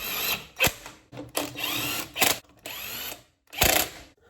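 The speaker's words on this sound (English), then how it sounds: "I'm going to grab the Ryobi rattle gun, we're going to set it to setting number 2" A Ryobi impact wrench on a low setting tightens wheel nuts on a Classic Mini during rear wheel bearing work, giving four or five short, loud rattling bursts separated by brief pauses.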